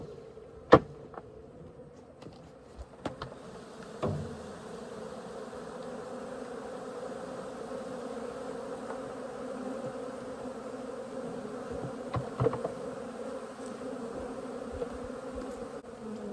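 A swarm of Africanized bees dumped from a bucket on a shed floor hums in a steady, faint drone, with scattered knocks and bumps nearby and no talking.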